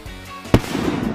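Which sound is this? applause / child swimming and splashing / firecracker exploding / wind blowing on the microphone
firecracker exploding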